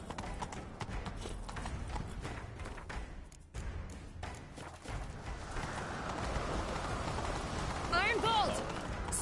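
Horse hooves clip-clop steadily in a medieval-style video game as riders set off in pursuit, with rain-like hiss and spoken dialogue over the rhythmic hoofbeats.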